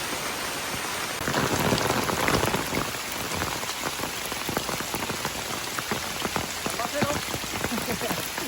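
A downpour drums on surfaces during a hill outing at Bukit Larut (Maxwell Hill), a thick, continuous rain hiss that swells briefly early on, dotted with sharp close droplet hits.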